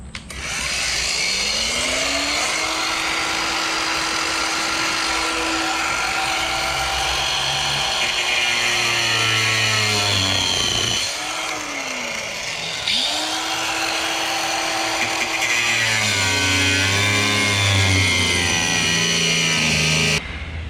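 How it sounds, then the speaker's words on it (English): An angle grinder cuts through a steel car body panel for a go-kart build. A loud, close whine rises and falls with the load over about twenty seconds, drops out briefly in the middle, then spins back up. "I'm just going to use an angle grinder and cut just where the black hits the blue there all the way around."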